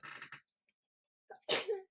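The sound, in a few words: sneeze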